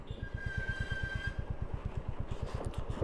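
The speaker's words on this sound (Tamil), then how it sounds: "இப்போ ஸ்லோ ஸ்பீட் பார்த்திங்கன்னா 3rd கியர் அப்படியே அந்த தம்பிங்கில் வெஹிக்கிள் இருக்குது" A Royal Enfield Classic 350 motorcycle, 2025 model, running at slow speed in third gear, its single-cylinder engine thumping in a steady, even pulse, close and continuous, with a faint whine early on.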